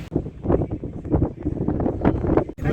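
Gusty wind buffets the microphone on Jekyll Island near a pier facing St. Simons, a loud continuous rumbling roar with surging gusts and no voices.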